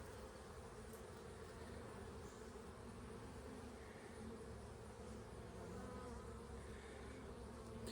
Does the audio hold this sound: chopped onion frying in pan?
no